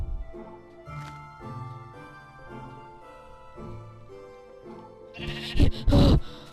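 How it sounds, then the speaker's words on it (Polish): Synthesized sheep bleats in Minecraft, with soft melodic background music, ending in two loud, close bleats. "zabójcza owca"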